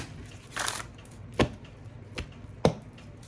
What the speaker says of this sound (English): and we shuffle them